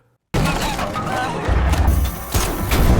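A gas cylinder shot in a film blows up, setting part of a base on fire: a sudden loud blast after a brief silence, followed by a sustained roaring, rumbling burn with further crashing bursts.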